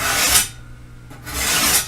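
A kitchen knife scrapes across a budget sharpener in two quick rasping swipes, separated by a short pause, loud and close.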